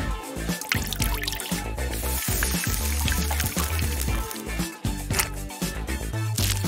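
Water is poured onto a row of Skittles candies, giving quick trickles and drips that run continuously over a dense, busy musical backing track.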